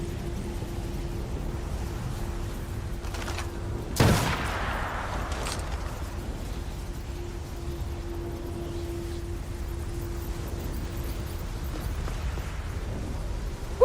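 A single sharp gunshot rings out once in an Assassin's Creed video game, standing out briefly above a steady, quiet background hum and ambient noise.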